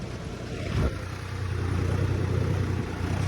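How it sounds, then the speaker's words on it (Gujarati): A Blue Horse 63 tractor ploughs a farm field, its engine a steady low rumble heard from a moderate distance with no break. "અત્યારે આપણે બેઠા છીએ અહીંયા અને ટ્રેક્ટર હાલે છે"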